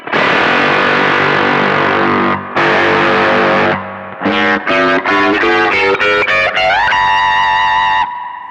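Heavily distorted electric guitar through a sine-wave modulation effect, warbling, first sustained chords, then a run of separate picked notes rising in pitch before a held note.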